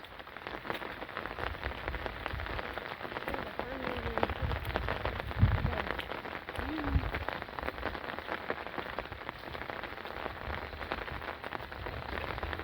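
Steady rain falls on surfaces throughout, a dense, even patter with a few slightly louder drops standing out near the middle.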